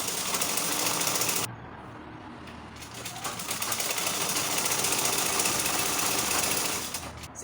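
Sewing machine running steadily while stitching shirring lines on a shirred smocked top, a loud continuous whirring drone that drops briefly near the start and then resumes, with no talk.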